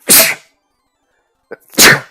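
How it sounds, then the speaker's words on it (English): Two loud, close sneezes, separated by a pause of about a second and a half, with a faint short sound in between. "Sorry, I sneezed so loud that the Snorlax woke up."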